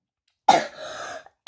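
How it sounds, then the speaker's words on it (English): A person coughs during a Highland cow painting tutorial: one sharp, close cough trailing into a raspy exhale, then a second cough bursting in about a second later. "I have a bad cough."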